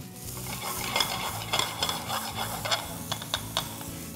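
Finely chopped onion hitting hot ghee in a pan for dal makhani, a continuous loud sizzle with rhythmic scraping and clinks of a spoon stirring against the metal pot.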